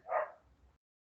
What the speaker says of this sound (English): I'm very sorry if you all are hearing my dog barking.